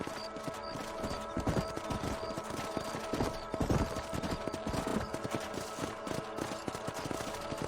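Horse hooves clip-clop in steady rhythm while riding in Red Dead Redemption, set against dense game ambience and background noise, a continuous trotting cadence with no speech over it.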